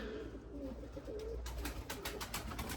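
Limoni breeding pigeons coo softly and repeatedly close by, with a low murmuring rhythm over faint background noise.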